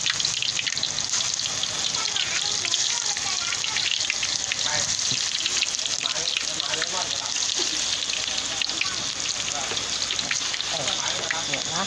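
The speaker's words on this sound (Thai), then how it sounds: "นี่น้ำมันร้อนๆเอากล้วยฉาบฝานลงไปเลย" Thin slices of raw banana hit hot oil in a home kitchen, raising a loud, steady, crackling sizzle like heavy rain that runs unbroken throughout, with a voice talking faintly beneath it.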